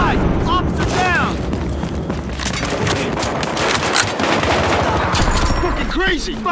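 Loud gunfire in the video game Battlefield Hardline during a downtown police shootout, rapid automatic bursts and heavy booms packed together, with shouted voices over the shooting.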